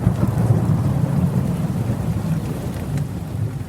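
Steady heavy rain falling in a thunderstorm, with a low rumble of thunder rolling underneath the dense hiss throughout and no voices.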